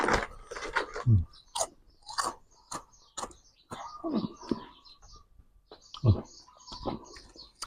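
Someone eats crunchy Isan-style pounded long-bean salad, with close, irregular bites and crisp crunching chews spaced across the clip and soft sounds in the background.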